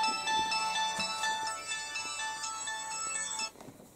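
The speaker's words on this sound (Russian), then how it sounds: "Телефон у вас." A telephone ringtone rings in an indoor room, a steady melodic electronic tone repeating for about three and a half seconds before cutting off, loud and close with no talk over it.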